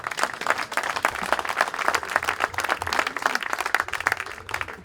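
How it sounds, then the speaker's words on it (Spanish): Audience at a tribute event breaks into dense, lively clapping with individual claps clearly audible, sustained at an even level throughout and without talk. "Un aplauso para ella."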